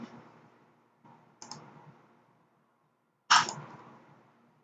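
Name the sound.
computer mouse clicks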